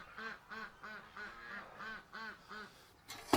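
Domestic ducks quack in a steady run of about eight calls, close and fairly loud, and a goose named Tiny that lives with the ducks honks once at the end.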